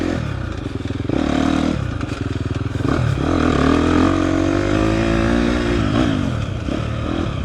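A 2024 KTM 250 XCF dirt bike rides off-road through technical Texas terrain, its engine droning loud and close with rising and falling revs, clatter and scrapes from the trail throughout.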